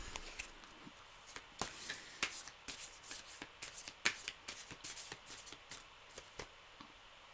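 Tarot cards being shuffled by hand, a quick run of crisp riffling and tapping bursts close by, fairly quiet, with no talking.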